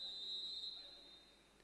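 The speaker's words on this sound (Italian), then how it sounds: "Arriva il fischio." A referee's whistle at a women's Serie A handball match sounds one sustained, fairly loud blast before a seven-metre throw, over a low background of arena noise.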